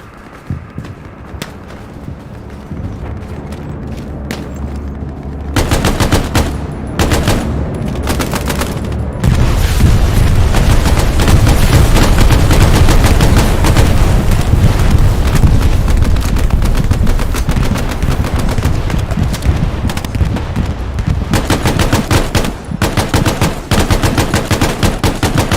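Sustained gunfire and machine gun bursts in the ArmA Reforger military game, starting sparse and then building into dense, continuous loud fire from about nine seconds on, with no talk over it.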